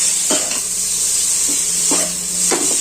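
Egg noodles stir-fried and tossed on high heat in a pan, with a constant loud hiss and sizzle and a few scraping strokes of the spatula, close up and without speech.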